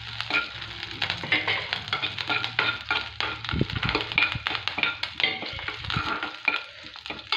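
Dried red chilies and curry leaves frying in hot oil for mullangi palya, a crackling sizzle broken by repeated spoon stirs and clinks against the pan, close and alone.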